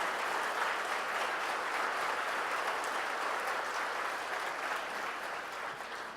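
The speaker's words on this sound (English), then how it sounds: "give them a big round of applause" A breakfast crowd of community college faculty, staff and administrators gets a big round of applause, a continuous, even roar of many hands clapping at moderate distance that barely tapers near the end.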